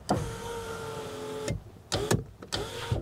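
The electric power window motor in a Renault Clio 3 on the passenger side whirs for about a second and a half, then stops and restarts in short bursts with clunks as the glass moves, close and clear.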